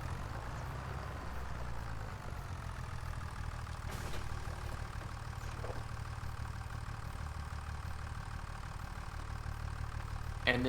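Tractor engine in Farming Simulator 2025 drones at a low, steady pitch as it pulls a load, its tone rising and settling through gear changes, fairly quiet and alone with no talk over it.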